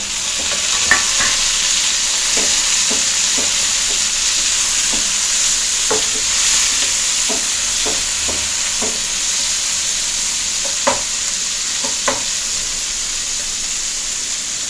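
Tomatoes and onions fry in a pan for an Andhra-style chicken curry, a loud, continuous close sizzle with scattered clicks and scrapes of stirring throughout.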